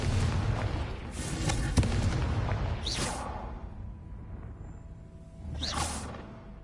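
A Confringo spell is cast in a fantasy video game, a loud fiery explosion with rumbling booms and a sharp crack, followed by two brief whooshing swishes over continuous low battle rumble, with no talking.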